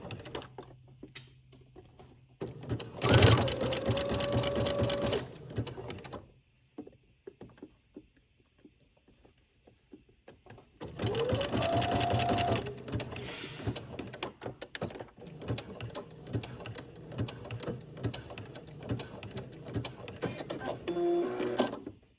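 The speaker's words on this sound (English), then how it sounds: "so let's go to the sewing machine" A sewing machine running two bursts of stitching along a maxi dress seam over stay tape, with quiet handling clicks between and after the runs.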